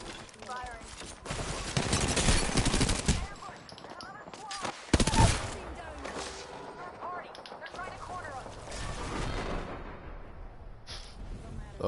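Rapid gunfire in an Apex Legends match, loud sustained bursts and volleys with a sharp heavy crack near the middle, set against game effects and intermittent talk.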